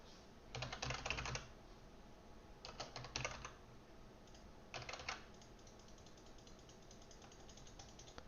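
Fast bursts of typing on a computer keyboard arrive in three short clusters separated by pauses, close and fairly quiet against a faint background hiss.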